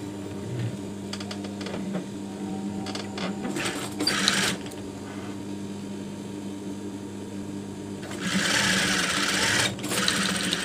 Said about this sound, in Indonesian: ini tinggal dijahit saja.